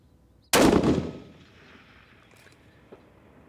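A single sharp rifle shot cracks at an outdoor shooting range, loud and close, with a booming tail that decays over about a second, followed by a faint distant knock.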